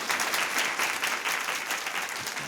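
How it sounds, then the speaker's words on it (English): An audience at an author event claps in a dense, steady burst of applause that stays loud for the whole stretch, with no one speaking over it. "Give them a round of applause."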